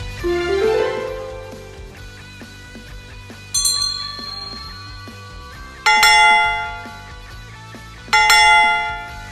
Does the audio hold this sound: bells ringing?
yes